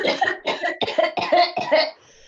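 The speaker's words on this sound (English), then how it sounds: "turn over on your side and cough it all out" A person lying on their side coughs hard, a series of about five harsh, close coughs in a quick, uneven rhythm, then falls quiet.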